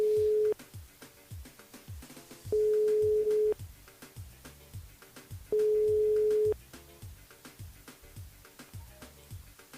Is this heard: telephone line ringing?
yes